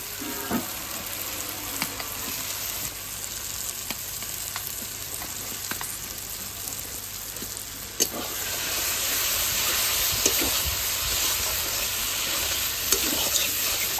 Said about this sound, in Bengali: এবার ভাজা আলুটা মশলার মধ্যে দিয়ে দেবো।